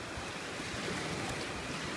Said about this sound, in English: Just listen to those waves.